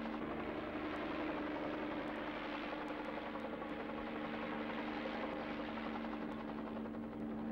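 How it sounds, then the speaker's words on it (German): A helicopter flies overhead with a steady droning buzz and a constant low hum, continuous and fairly distant, with no voices. "Hubschrauber sind auch nicht die leisesten."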